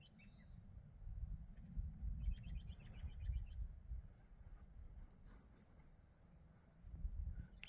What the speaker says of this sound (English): Hear the bird.